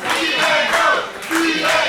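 A wrestling crowd at an MPW show roars in loud, dense cheers and shouts, with a short dip before the noise surges again.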